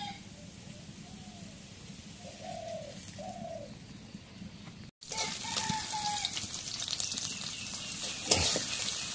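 Oil poured into a hot wok flares into a loud, dense sizzle partway through, after a quieter stretch filled with a pigeon's soft repeated cooing in the background.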